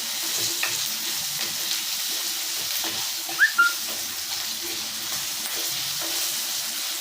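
Onions sizzle and fry in a pan for onion kara kuzhambu, with a steady crackling hiss throughout and a couple of brief clinks as they are stirred nearby.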